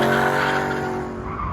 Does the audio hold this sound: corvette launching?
yes